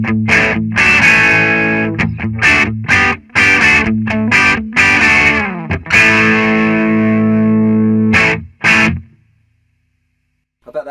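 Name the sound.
electric guitar through Marshall DSL 40c clean channel, more gain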